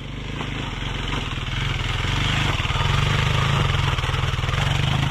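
A dirt bike engine labors up a steep, loose sandy mountain trail at Pole Hill in Colorado, a steady pulsing mid-pitched drone that grows gradually louder over a few seconds, with no clear talk.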